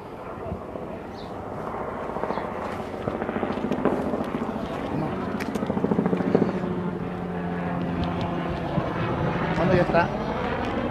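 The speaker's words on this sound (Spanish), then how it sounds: "Ya está sobrevolando el helicóptero de la Policía Nacional" A police helicopter drones steadily overhead with a throbbing rotor sound during a police search in a residential neighborhood, while people talk nearby throughout.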